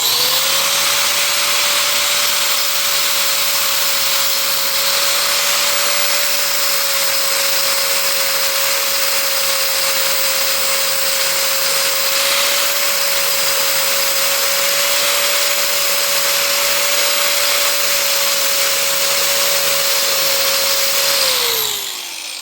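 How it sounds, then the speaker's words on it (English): A grinder runs steadily on metal while restoring the stands of a 1979 Honda CBX 1000 motorcycle, throwing sparks: one loud, continuous whining drone lasting about twenty seconds before spinning down at the end, with no talking. "I'm just going to keep on grinding and throwing some sparks until it's time to weld"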